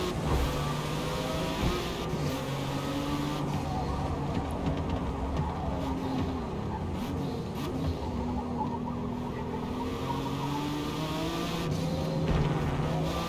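A Ford GT race car in Forza Motorsport drives at speed, its engine droning steadily with shifting pitch across the whole stretch, loud and close, with faint tire noise and little talk.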